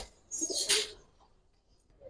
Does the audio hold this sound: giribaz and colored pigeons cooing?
yes